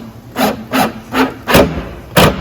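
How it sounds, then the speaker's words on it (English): An impact drill drives a screw into wood during work on a blanket chest, hammering out five rasping, rhythmic bursts in quick succession, close and loud over a faint steady hum. "the way this drill works is it turns and pounds and turns and pounds and makes it very easy to go in"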